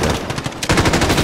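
Rapid automatic gunfire in Call of Duty Modern Warfare during a Hardpoint match on the Rust map, a loud burst of closely spaced shots that briefly quiets, then returns even harder and denser.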